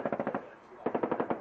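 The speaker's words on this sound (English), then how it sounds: "More gunshots." A short burst of rapid gunfire, then a brief gap and a second rattling volley of evenly spaced shots, loud and close.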